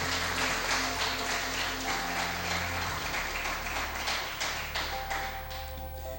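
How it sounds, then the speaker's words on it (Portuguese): Congregation applauding in a church service, a dense continuous clatter of many hands filling the space, fairly steady with a low hum beneath and slight thinning toward the end. "vamos aplaudir o Senhor"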